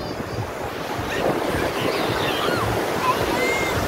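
Ocean waves wash onto a beach in a steady, broad rushing roar that swells slightly after the first second, with wind buffeting the microphone throughout.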